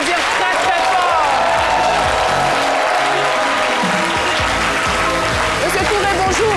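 Studio audience applause on a midday television talk show, loud continuous clapping with music and a host's voice running over it.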